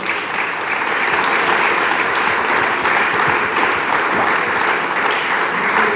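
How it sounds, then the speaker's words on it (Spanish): A church congregation applauds during a sermon, giving steady, loud, sustained clapping from many hands that fills the room without a break. "Dele palmas al Señor."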